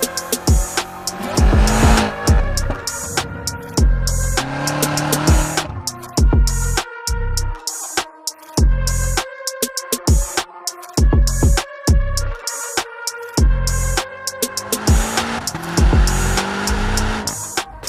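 A 2022 BMW M5 CS launches hard with launch control, its engine roaring loud and close through rapid upshifts, the revs climbing and dropping in a repeating pattern over the full run.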